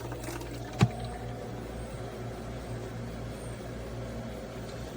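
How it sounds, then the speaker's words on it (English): A GoveeLife countertop ice maker hums steadily with a low motor drone and faint trickling water, one sharp clunk near the start, and no talking. "So now it's making ice. You can hear the sound that it makes."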